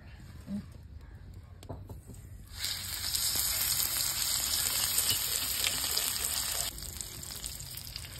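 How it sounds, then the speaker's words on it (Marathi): Stuffed fish coated in rice flour fries in very hot oil, a close, steady crackling sizzle that swells louder after a couple of seconds and holds, with faint handling sounds and no talking. "तर आपला मासा आहे तो दोन्ही साईडने मस्त फ्राय झालाय."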